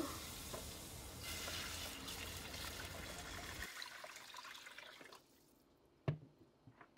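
Cold water pours into a pot of tarhana soup, a loud rushing splash that stops abruptly, followed by quiet stirring and a single sharp clink of a spoon against the pot.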